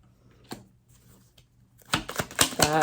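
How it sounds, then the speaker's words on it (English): A tarot card deck is riffled close up, a single snap followed by a rapid flurry of fluttering, slapping cards. "Shuffling seems extra loud today."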